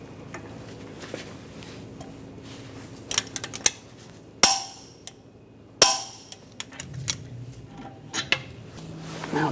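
Torque wrench tightening the front CV axle nut on a 2010-2016 Cadillac SRX to 184 foot-pounds, a pry bar between the wheel studs, with a few loud metallic clicks and clanks amid quieter tool handling.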